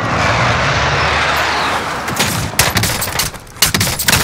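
Heavy gunfire in the Call of Duty Modern Warfare video game: a dense, steady roar of automatic fire that breaks into scattered loud single shots and short bursts near the listener.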